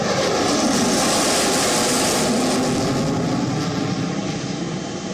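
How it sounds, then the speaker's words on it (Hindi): Sukhoi Su-30MKI fighter jet in flight, a loud, steady broadband engine roar held throughout without a break, with no voices over it. "Sukhoi 30 MKI fighter jet"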